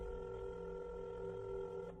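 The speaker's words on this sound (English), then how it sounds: "went to his desk, and made a phone call" Telephone dialing effect in a crime podcast as a detective places a call from his desk, steady electronic tones held across the moment, fairly quiet and alone with no talk.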